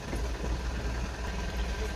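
A JAK vehicle's engine runs steadily in second gear, a low, even idle-like hum with a faint mechanical vibration throughout and no clear speech on top.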